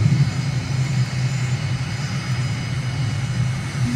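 Aircraft engine droning steadily in Microsoft Flight Simulator on approach to a Damascus, Syria runway, with a low continuous hum and hiss that stays level and close, no voices.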